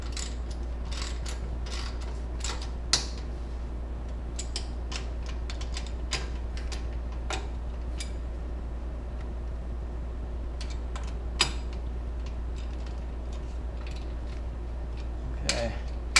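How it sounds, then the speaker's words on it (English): A torque wrench tightens the pinion bolts on a Jeep Wrangler JK to 60, giving sparse, sharp ratcheting clicks over a constant low hum. "grab your torque wrench and torque them to 60, as they should be."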